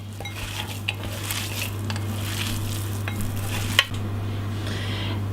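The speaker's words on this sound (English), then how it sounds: "And then you'll mix it up." Meatloaf mixture of meat, onions, garlic and vegetables being stirred and mixed in a bowl, giving a steady soft squelching and scraping with a single sharp clink near the end, over a constant low hum.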